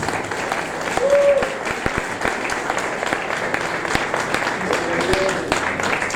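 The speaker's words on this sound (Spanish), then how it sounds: "Dale un fuerte aplauso." A church congregation claps loudly in sustained applause for several seconds, a dense steady patter with a faint voice and brief tones rising above it.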